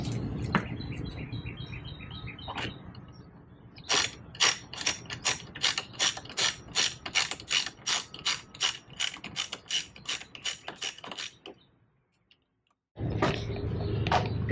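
Ratchet wrench tightening the clamp of a Jeep roof rack cross bar on the gutter rail, a long run of sharp, rapid clicking strokes in quick even bursts, close and clear, with short pauses between sets and no talking.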